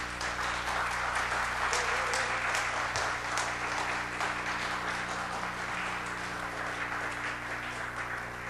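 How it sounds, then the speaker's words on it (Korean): Sustained applause from a church congregation at a fathers' prayer meeting, welcoming a school principal as he comes forward to speak; dense, steady clapping fills the whole stretch at an even level, with no talk over it. "큰 박수로 환영해 주시길 바랍니다"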